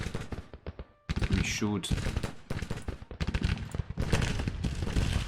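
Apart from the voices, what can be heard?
gunfire from Civil War troops in the video game Grand Tactician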